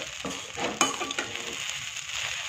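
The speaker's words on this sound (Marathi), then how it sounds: "छान अशी ब्राऊन होईपर्यंत आपल्याला साबुदाणा असा परतून घ्यायचा आहे" Sago pearls (sabudana) being sautéed in a pan for khichdi until lightly browned, giving a steady soft sizzle with a few scraping stir clicks, close and moderately quiet.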